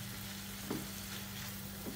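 Chicken mince sizzling in a nonstick pan as it is stirred with a noodle spatula, a faint steady frying hiss with a couple of soft scraping strokes.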